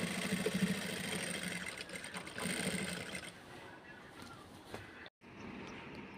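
A sewing machine stitches lace onto the plain border of a silk saree, a quick steady mechanical whirring and clatter close by that runs throughout, easing slightly toward the end with a brief break.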